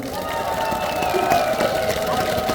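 Audience applause and cheering at an outdoor healing concert on a special stage in Cheongjeon Park, Jecheon, a steady crowd clapping with tonal stage sound and faint voices mixed in.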